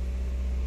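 A car engine running at a high idle, a steady low drone held close and even throughout with no voices over it.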